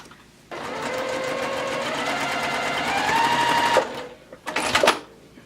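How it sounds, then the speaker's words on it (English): Sewing machine stitches quilt strips in a steady, fast mechanical run of about three seconds, followed by a short second burst of stitching, close and clear. "I'm going to sew right here"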